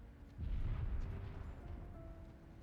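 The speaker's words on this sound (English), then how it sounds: "A loud explosion echoes in the distance." Distant explosion in the video game NIKKE: a single low, muffled boom swells and rumbles for about a second before fading into a quiet background hum.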